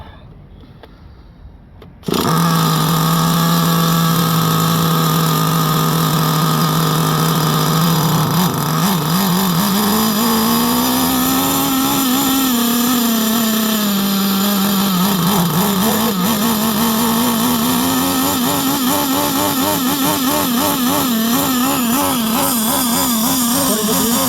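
An HPI Savage X 4.6 nitro RC truck engine starts up and runs, a loud, high buzzing whine that holds steady and then wavers up and down in pitch while it warms up, with no voices.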